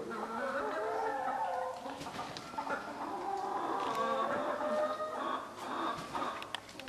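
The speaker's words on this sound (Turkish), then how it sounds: "Burada 30 tane tavuk var." Chickens cluck steadily in a barn, a flock of about thirty birds, with overlapping calls close by throughout and an occasional crowing note.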